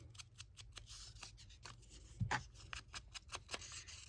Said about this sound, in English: Let's tear that a little.